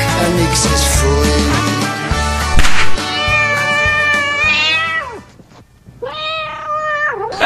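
Sung, pitch-sliding meows from a voice imitating a cat, loud and close over a busy carnival pop song with band and vocals, repeating across the whole stretch.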